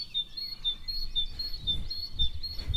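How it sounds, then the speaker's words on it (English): A great tit calls repeatedly in clear, high chirping phrases, moderately near, over a low rumbling background. "Alright, it's a great tit."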